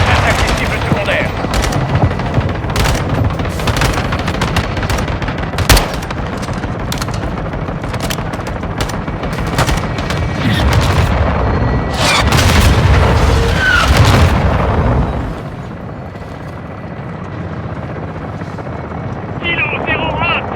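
Air support in Call of Duty Modern Warfare 2 pounds targets with a loud, continuous barrage of rapid gunfire and booming explosions over a helicopter's drone. The barrage eases after about fifteen seconds, and voices are heard beneath it.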